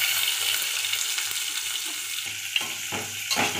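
Chopped onion and green chilli sautéing in oil for a beetroot stir-fry, a steady close sizzle broken by several sharp spatula scrapes and stirs toward the end.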